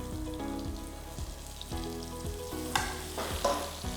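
Sliced onion, capsicum and tomato frying in a pot for paneer jalfrezi, a steady close sizzle and crackle with repeated scraping stir strokes and a couple of louder bursts.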